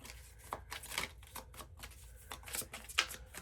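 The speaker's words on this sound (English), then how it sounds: "Sorry, you can't even see me shuffling." Tarot cards being shuffled by hand, a quiet series of quick papery riffles and soft taps in uneven bursts, close to the microphone with no talking.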